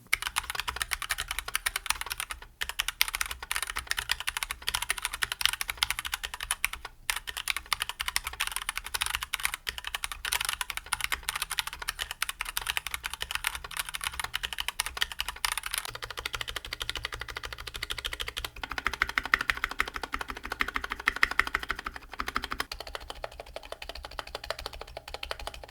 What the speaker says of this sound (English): Let's hear the stock typing test so we can see what we're working with.